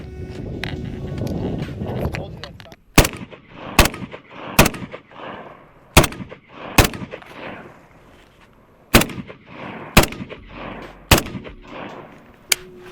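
A SIG SPEAR .308 rifle fires about ten sharp, loud shots at uneven intervals as the shooter moves, each crack followed by a short echo, with wind buffeting the microphone between shots.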